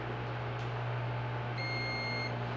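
A single steady electronic beep sounds for under a second over a constant electrical hum, high and clean: a multimeter continuity test on a microwave oven part.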